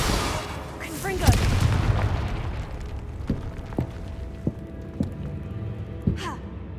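A Confringo spell blast in Hogwarts Legacy booms loudly at the start, followed by a string of sharper impact thuds and crackling hits spaced through the rest, with a voice sighing and gasping over it.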